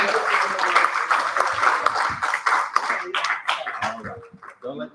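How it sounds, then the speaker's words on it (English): An audience at a lecture on Exodus breaks into applause, a dense wash of clapping that starts full, then thins and trails off over about five seconds, with scattered voices mixed in. "Everybody, please give them a round of applause."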